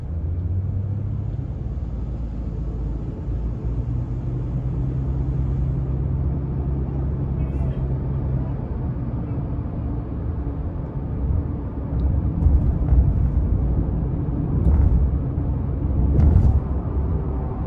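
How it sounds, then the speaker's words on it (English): 2021 Subaru Crosstrek Sport with the 2.5 engine during a test drive, heard from inside the cabin as a steady low rumble of engine and road noise, with a few faint clicks over it. "with this newer engine that they've got in this Crosstrek how much faster it is compared to the older one"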